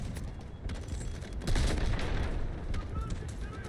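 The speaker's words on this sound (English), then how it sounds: "Incoming artillery, destroy the enemy." An artillery barrage rumbles and crackles in the video game Delta Force: Hawk Ops, a dense roar of distant booms and rapid gunfire that swells louder partway through.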